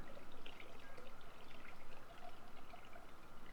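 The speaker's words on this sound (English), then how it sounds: "let me make sure it's well dissolved before I add the ice cold water" Ice-cold water pours steadily into a bowl of dissolved strawberry Jell-O mix, a soft continuous trickling stream that stays faint and close with no talking over it.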